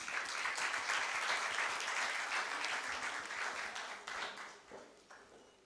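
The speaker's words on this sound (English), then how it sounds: "Let's have a warm round of applause for Dr. Wernersson and Miss Adele, please." Sustained applause from a seated audience at an EU–Nepal business forum session, a dense, steady clatter of many hands that thins and fades over the last second or so.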